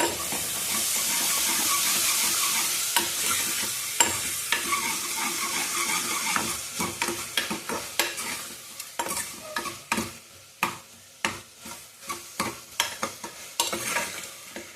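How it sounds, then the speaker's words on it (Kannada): Tomatoes fry in a pan with turmeric and salt, a steady loud sizzle at first that thins out while a spoon keeps scraping and stirring through them in sharp, irregular clicks. "ಟೊಮೊಟೊ ಬೇಗ ಫ್ರೈ ಆಗುತ್ತೆ."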